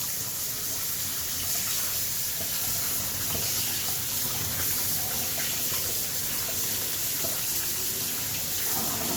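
Tap water pours steadily into a sink while chicken is washed, a continuous moderate splashing rush with faint handling sounds and no talk.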